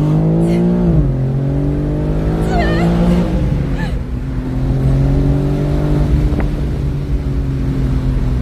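A 2025 BMW M4 Competition engine revs and roars up close, its pitch rising and falling through a couple of surges, loud and steady throughout.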